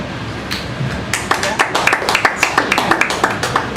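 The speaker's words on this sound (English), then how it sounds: "Just a round of applause if you guys watch politics on television." A live audience at a talk in New York breaks into applause, dense clapping that builds and carries on steadily over a murmur of voices.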